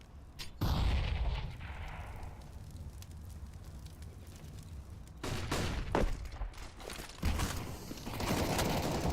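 Rapid automatic gunfire spray in a Counter-Strike: Global Offensive competitive match, with a sharp opening burst, a quieter lull of distant game noise, then several loud clustered volleys of shots toward the end.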